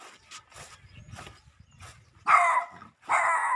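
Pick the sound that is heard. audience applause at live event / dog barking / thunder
dog barking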